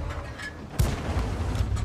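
A single sudden boom of a KV-220-2 tank's cannon shot in a video game, a penetrating hit, followed by a low rumbling tail, set against a steady game-like background hum.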